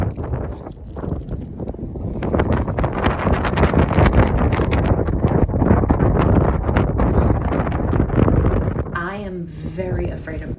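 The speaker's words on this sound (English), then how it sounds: "It's great, but for us, it got a little windy." Strong wind gusts buffet the microphone high on Mount Rainier near the top of the cleaver, a loud, rough, continuous roar that swells and fades, with a voice speaking briefly near the end.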